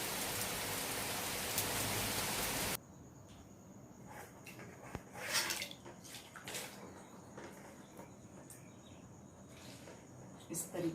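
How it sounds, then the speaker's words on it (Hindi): Rain falling outside a balcony in the morning, first as a dense, loud hiss, then dropping to a softer patter with scattered drips and faint background noise. "सुबह जब मैं उठी और बालकोनी आई, बारिश शुरू हो गई"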